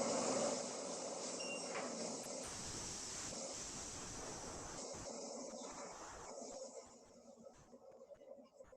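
Wind gusting across a back porch, a broad steady rush that slowly eases and grows patchier toward the end, with no voices.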